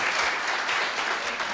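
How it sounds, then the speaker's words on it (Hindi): Audience applause in a seminar hall during a network business talk, a steady dense wash of clapping lasting the whole short moment with no voices over it. "फिर भी ताली बजा दो आप।"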